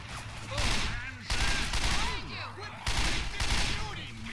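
Bursts of rapid automatic gunfire in the zombie survival game Left 4 Dead 2 come in three loud fusillades, separated by short pauses, with someone talking over the shooting.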